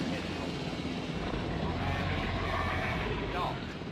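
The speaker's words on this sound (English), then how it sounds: "Pilot helicopter." A piloted helicopter in the video game Jurassic World Evolution 3 hums and whirs steadily in stormy weather, a continuous engine and rotor drone with talk over it.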